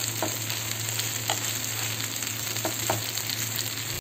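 Plain eggless wheat flour pancake cooking on a pan over low heat, a steady continuous sizzle with faint occasional ticks, close and even throughout with no talk.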